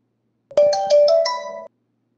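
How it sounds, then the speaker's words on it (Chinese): A mobile phone ringtone plays one short melodic burst of bright, rising tones for just over a second, loud and close, with silence before and after. "还有谁电话响？"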